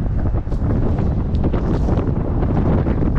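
Strong wind buffets the microphone in a loud, continuous low roar with gusty surges, close and unbroken throughout.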